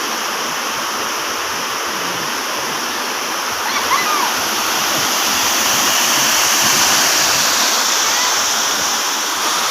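Strong rushing floodwater surges through a lagoon area after rain, a steady broad roar of moving water close by that swells slightly midway and runs continuously throughout.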